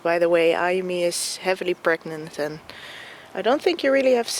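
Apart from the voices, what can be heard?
No everyday noise stands out behind the speech.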